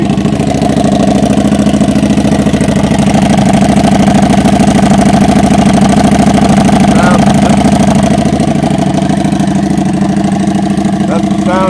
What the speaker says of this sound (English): That's the sound you will get out of this particular motorcycle.